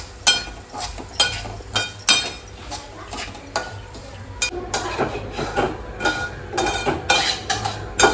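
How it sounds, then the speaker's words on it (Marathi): Semolina roasts in ghee in a pan while a spoon stirs it, producing repeated scraping clinks of metal against the pan over a soft frying sizzle. "आपण याच्यामध्ये रवा टाकू आणि रवा आपण याच्यामध्ये भाजून घेऊ मस्त याची तुपामध्ये"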